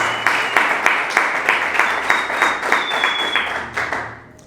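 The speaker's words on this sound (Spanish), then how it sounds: "Denle un fuerte aplauso a nuestro Señor Jesús." A church congregation claps loudly and steadily in a fast, even rhythm, with a crowd of hands striking together before the sound fades at the end.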